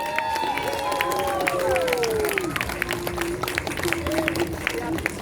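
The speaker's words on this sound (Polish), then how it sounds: "Głośniejsze, dajcie im głośniejsze te brawa." An audience gives a children's Suzuki school performance in Zabrze a dense round of clapping that holds steady throughout, with a voice talking over the applause.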